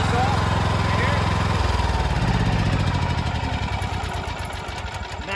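A Ridgid 6800-watt portable generator engine idles steadily and loudly up close, its low, even drone slowing and softening slightly toward the end.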